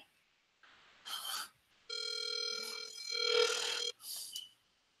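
Outgoing phone call ringing back, a steady electronic ring tone sounding twice in a row, preceded by short noisy bursts, close and clear with no talk.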